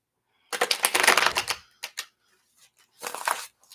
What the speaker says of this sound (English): I'm just shuffling the cards.